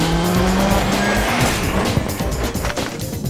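Rally cars at the 2006 WRC New Zealand event roar loudly with tyres squealing and skidding on the stages, a dense continuous engine wail with shifting pitch over about three seconds, no voices.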